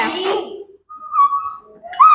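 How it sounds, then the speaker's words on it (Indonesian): A brief voice, then two short, shrill whistle tones, the second rising slightly in pitch. "Peluit."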